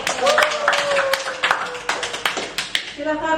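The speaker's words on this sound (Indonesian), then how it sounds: "Oke, kita kasih tepuk tangan dong buat kelompok desikator." A classroom group claps for a team of students about to present, a scattered burst of hand claps with a few sharper individual claps standing out, mixed with voices talking.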